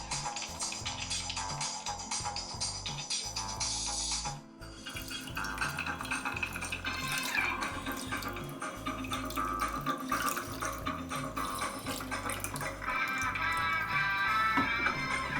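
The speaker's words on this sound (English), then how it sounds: "So I'll be using cold water directly from my refrigerator" Cold water from a refrigerator poured over a waterproof Geotel A1 Android phone, a steady close splashing and trickling that runs almost continuously with a short dip partway, alongside faint clinks and a background hum.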